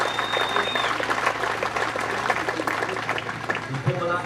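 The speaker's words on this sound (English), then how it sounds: "Let's give them a round of applause, please." Audience at an outdoor youth football prize-giving at a sports oval bursts into sustained applause, dense clapping throughout with some talking mixed in underneath.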